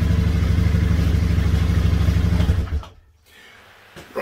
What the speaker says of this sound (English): we can turn the engine off now